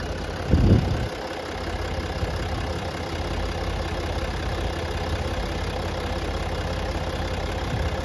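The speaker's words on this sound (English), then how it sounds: "I think it's a 3-liter V6 diesel, turbo diesel." A 3-liter turbo diesel V6 in a 2016 Range Rover HSE TD6 idles steadily with a low, even rumble after a brief thump at the start, continuous and close, no voices.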